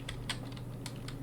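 Quick, light keystrokes on a computer keyboard while writing Python code for a Discord bot, a handful of soft close clicks in an uneven rhythm over a low steady hum.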